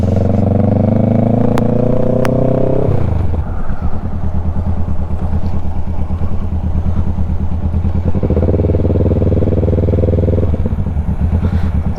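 A motorcycle drones loudly throughout while being ridden on a Marinduque loop road, its engine note shifting pitch as it changes speed, with wind rush and occasional clatter.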